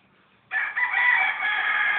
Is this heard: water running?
no